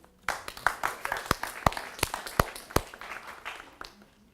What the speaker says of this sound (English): Applause for our German ladies